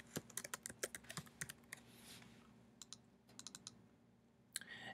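Someone types on a computer keyboard, quiet and close: quick bursts of key clicks, a brief pause, then a few more scattered taps and a final clack.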